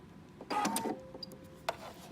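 A sewing machine runs a quarter-inch seam through two pieces of fabric placed right sides together, making a homemade heat or ice pack. A close, brief mechanical whir stitches for a moment, pauses, then gives another short burst, with no voices.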